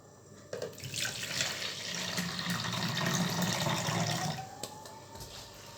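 Water pours steadily into a cooking pot for sweet pongal with rice, a continuous splashing rush lasting several seconds before it stops, close and moderately loud with no talk.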